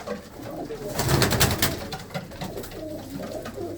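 Pigeons in a Mansa loft coo in soft repeated throaty rolls, close by, with a brief flurry of movement midway and little talk.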